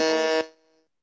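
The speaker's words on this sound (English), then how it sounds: "I think this is Anirban's timer" A timer alarm goes off in a lecture setting: a short, loud electronic buzzing tone lasting under half a second, then ringing briefly as it decays into silence.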